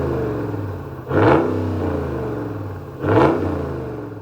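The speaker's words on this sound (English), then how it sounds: "we get black dark dual exhaust tips with that HEMI V8 sound" HEMI V8 engine on a Ram BackCountry pickup revving twice through dual exhaust, each loud swelling blip rising and falling over a steady idle burble.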